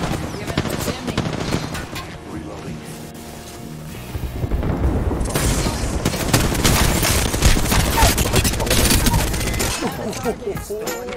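Bursts of gunfire and explosions in the video game Apex Legends, dense rattling volleys and booms throughout, loud and continuous, with a voice talking over the action.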